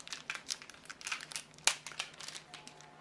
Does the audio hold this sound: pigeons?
no